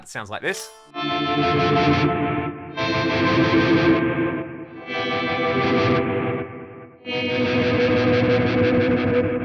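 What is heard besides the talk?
guitar phaser effect with swirly wobble from Fractal AX8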